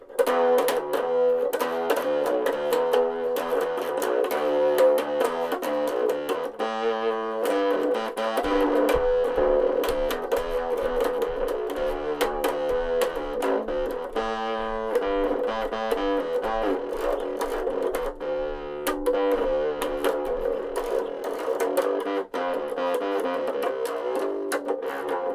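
Electric guitar played through an overdrive pedal, a steady, thick distorted tone with chords and notes sustaining continuously and loudly without pause.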